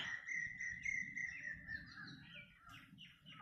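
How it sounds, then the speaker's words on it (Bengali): Birds chirp and warble close by at a village pond, a lively run of bright calls over a faint bed of insect buzz, with no voices. "আর পাখির আওয়াজ"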